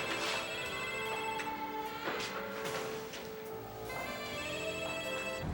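A telephone rings repeatedly in a crime drama scene, a bright electronic ring in regular bursts against a background music bed, with no one speaking over it.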